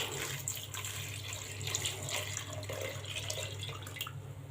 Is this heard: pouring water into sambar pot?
yes